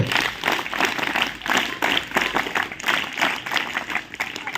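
Group of people clapping hands in unison during an exercise session, a loud rhythmic run of sharp claps repeating steadily over several seconds, nearby and filling the room.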